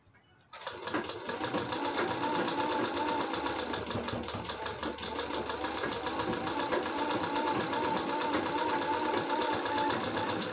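A sewing machine stitches a long-sleeve blouse with a fast, continuous mechanical whirr and rapid ticking that starts after a brief pause and runs steadily at close range with no talking.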